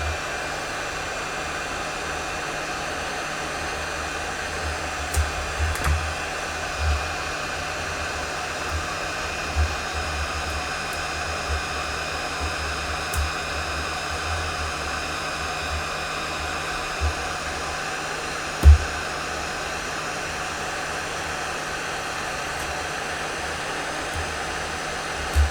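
A heat gun blows a steady, airy whoosh as it warms the screen of an EZpad Pro 8 tablet, continuous and close for the whole stretch, with a few faint clicks and knocks of handling and no talk.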